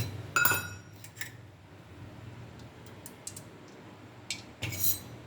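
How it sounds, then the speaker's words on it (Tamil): A cooking pan clanks down onto a stove, with a few more light metallic knocks and clinks afterward in a quiet kitchen. "இப்போ ஒரு அடுப்பில் சட்டி வச்சுக்கலாம்"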